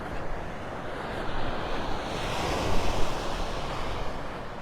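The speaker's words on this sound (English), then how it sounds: "this is the beach at Pelican Bay" Ocean surf rolls onto the beach at Pelican Bay in North Naples, Florida, a continuous broad wash of waves mixed with gusty wind buffeting the microphone and swelling louder toward the middle.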